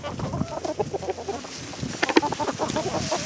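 Several chickens cluck and chatter close by in quick, overlapping bursts, with some rustling and movement around them.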